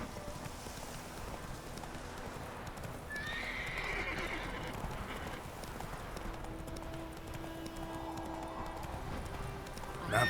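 Roach, the horse in The Witcher 3: Wild Hunt, gallops with rapid rhythmic hoofbeats and lets out a shrill whinny midway, all over faint wind and game ambience.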